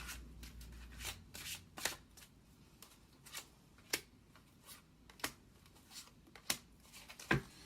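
Tarot cards are handled and shuffled close by, giving soft papery riffles and sharp flicks and taps at irregular intervals over a quiet background.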